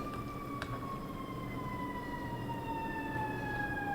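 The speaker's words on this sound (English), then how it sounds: "Sirens going by." Emergency vehicle sirens wail past in steady, slowly falling tones that hold for the whole stretch, fairly loud over a low rumble of traffic, with no talking.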